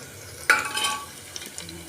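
Curry leaves dropped into hot oil in a pan while cooking kodo millet burst into a sharp sizzling spit, then fade into softer crackling and light stirring, close and with no speech.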